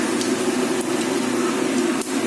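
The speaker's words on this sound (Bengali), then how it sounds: "এবার আমি এই গরম তেলের মধ্যে জিরে ফোড়ন দিচ্ছি" Cumin seeds are added to hot oil for tempering, producing a steady, close hissing sizzle with a few brief sharp crackles, heard on its own without speech.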